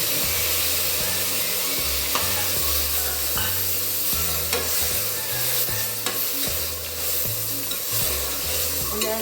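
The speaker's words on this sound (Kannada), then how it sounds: "ಫ್ರೈ ಆಗ್ತಾಯಿದೆ ನೋಡಿ, ಫ್ರೈ ಆಗಿದೆ." Ingredients for okra sambar fry in hot oil in a pan, a steady loud sizzle throughout, with occasional scrapes and knocks of stirring and a low background hum.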